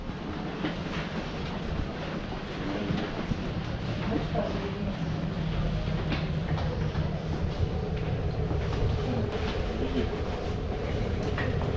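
A train rolls along the platform at Samara railway station, a continuous rumbling and clattering of wheels on rails that grows slightly louder as it comes in, with station ambience and a faint voice underneath.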